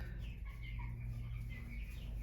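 Six-week-old Cornish Cross chickens cluck and murmur softly at moderate distance, their low calls overlapping in a steady flock chatter over a constant background hum.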